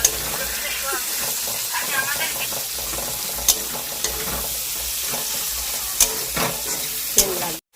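Ginger frying in a pan gives a close, continuous sizzle and hiss with occasional stirring scrapes and a few sharp clinks, while a voice talks faintly over it.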